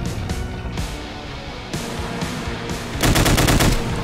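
Chaingunner fire in Doom (Project Brutality, Plutonia's Ghost Town), several close, loud bursts of rapid machine-gun shots with short gaps, closing in a dense fast rattle.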